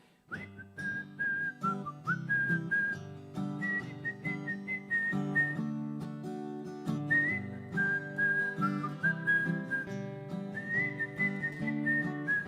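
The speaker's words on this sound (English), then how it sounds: "It's a whistling song for all you whistlers out there." A person whistles a bright, lilting song at a live radio performance, with clear sustained notes and melodic runs carried alone at moderate volume.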